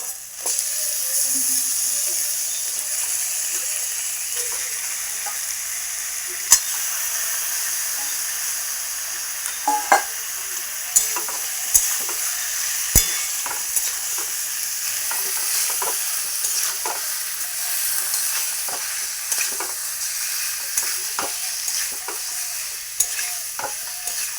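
Chicken stir-fried in a pan for a soybean chicken curry, a continuous bright sizzle and hiss with scattered spatula scrapes and clicks throughout, close and steady with no voices.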